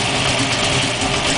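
A vehicle engine runs loud and close right after a first ride, a dense steady roar with no distinct rev peaks across the short stretch.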